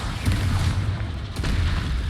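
A Confringo fire spell explodes in the Hogwarts Legacy video game with deep, rumbling booms that roll on continuously, one heavy blast following another at close range.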